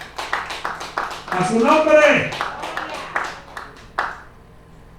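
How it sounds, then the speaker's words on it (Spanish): A church congregation claps for the Lord, with a run of distinct, rhythmic hand claps and a voice shouting loudly over them in the middle, then one last isolated clap. "¿Cuántos dan un aplauso fuerte al Señor?"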